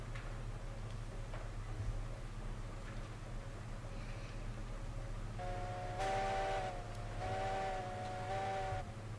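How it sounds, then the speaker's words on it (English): A distant steam locomotive whistle in the railroad game Railroads Online sounds faint and far off, a couple of long, tonal blasts near the end over a low, steady rumble and soft ticking. "I love the faint sound of the whistle in the distance."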